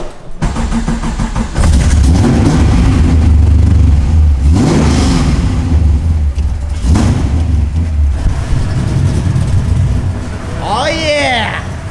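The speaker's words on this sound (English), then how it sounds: "So let's give it a start. You wanna hear this cam" Car engine with a newly fitted cam cranks and catches, then revs loudly in several rising and falling bursts with a choppy idle between them. Excited voices shout over it near the end.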